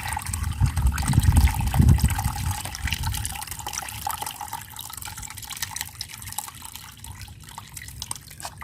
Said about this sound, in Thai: เมื่อเราต้มแล้วนะคะ แล้วเย็นแล้วนะคะ เราก็กรองเลยค่ะ ตัวน้ำนะคะ